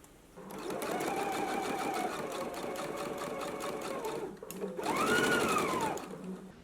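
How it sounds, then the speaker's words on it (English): A sewing machine stitches a 5/8-inch seam on a garment in two close, steady whirring runs with a brief pause between them, its motor pitch rising and falling as the speed changes. "you want to go ahead and stitch it at a 5/8 of an inch seam allowance"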